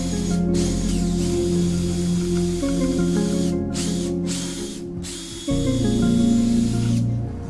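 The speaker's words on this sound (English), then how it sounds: "Take the board that you want to be the bottom, and drill some pocket holes into that." A power drill whines steadily while drilling pocket holes into a wooden board, its motor pitch shifting and jumping louder partway through, with brief gaps where it stops.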